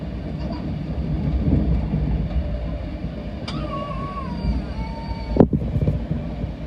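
LNER train from Leeds running through New Southgate toward London King's Cross, a steady low rumbling roar of the carriage interior with rattles and a brief squeal of rail noise partway through.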